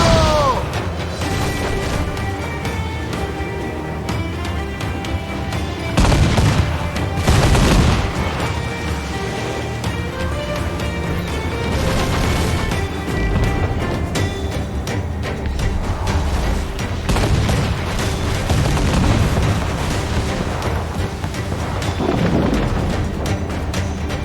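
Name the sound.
enemy cannon fire and impacts in Assassin's Creed: Black Flag video game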